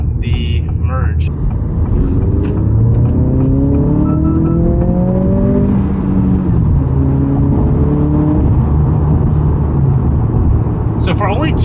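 A 2023 Acura Integra A-Spec turbo with a six-speed manual accelerates hard in sport mode onto a highway, its loud engine climbing through rising gear sweeps and dropping at each shift, close and continuous.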